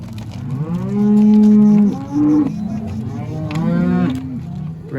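Several cows and calves moo in long, loud, drawn-out calls, one after another, with overlapping bellows and no talking.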